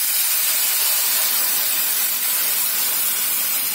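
Spices crackle in hot oil as a tempering for kadhi, a loud, continuous close-up hiss with dense sputtering and no pauses.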